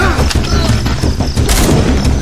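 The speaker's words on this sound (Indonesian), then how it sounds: "Mendengar suara letusan pistol" Pistol shots in a Filipino action film crack out in a dense, rapid volley of sharp loud bangs, with other film sound mixed in.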